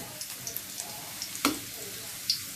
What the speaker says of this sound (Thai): เจียวกระเทียมให้เหลืองๆหอมๆกัน